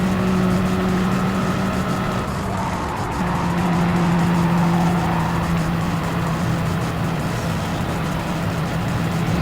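Race car at speed on the Road Atlanta circuit during a race, its engine a steady loud drone with shifting pitch throughout, close and continuous with no talk.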